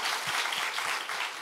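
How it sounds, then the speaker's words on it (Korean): A small group claps together during an interview held at a Christian gathering, producing steady, fairly faint rapid applause that continues throughout. "박수 한번 하겠습니다."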